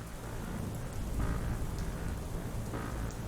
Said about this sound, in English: Please don't be a thunderstorm.